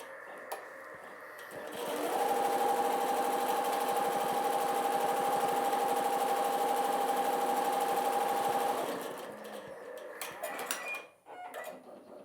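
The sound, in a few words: Halo X embroidery machine sewing a placement stitch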